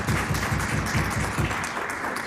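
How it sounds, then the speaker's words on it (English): Applause in the House of Assembly chamber for a guest being honoured, a steady round of clapping from many members filling the room with no voices over it. "hope the House give her a nice round of applause"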